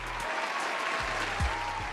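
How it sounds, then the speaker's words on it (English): An audience gives a round of applause during a talk about building a school in Ghana; brief, steady crowd clapping at close range, with a faint low voice briefly underneath. "Give us a round of applause."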